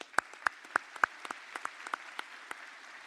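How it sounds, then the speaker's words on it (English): Applause at a circuits and systems conference awards ceremony, thin and scattered, with a handful of separate claps at irregular intervals over a soft background hum, quiet and somewhat distant. "Applause for them."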